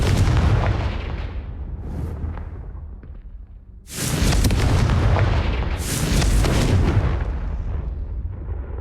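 A Confringo fire spell bursts in Hogwarts Legacy, a loud booming blast with a roaring fiery rush. It fades, then a second powerful explosion erupts and rumbles on, with no talking over it.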